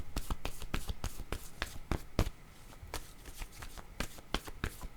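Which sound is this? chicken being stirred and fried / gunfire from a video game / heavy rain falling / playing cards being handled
playing cards being handled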